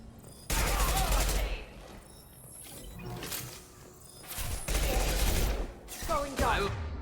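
Rifle fire in the sci-fi shooter Mass Effect 2, loud bursts of rapid automatic shots in two main volleys with mechanical clanks between, close and dense over game effects and faint talk.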